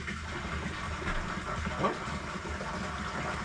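Water gushes from a well pump during a heat wave after air is pushed through the dry line, making a steady, fairly loud rushing wash with rumbling pump noise underneath and a single short exclamation from a voice.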